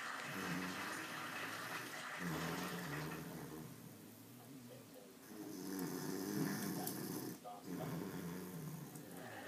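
A man snores indoors, slow rasping breaths rising and falling in long cycles, fairly close, with a faint watery background hiss throughout.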